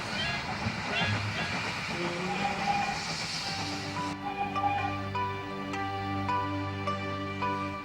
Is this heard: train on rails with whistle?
yes